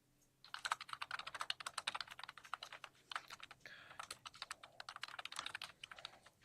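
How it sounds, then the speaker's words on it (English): Rapid, uneven clatter of typing on a computer keyboard right beside a microphone in a courtroom, close and crisp, continuing in bursts for several seconds with no talk. "Why do the keyboard people have to be right by the microphone?"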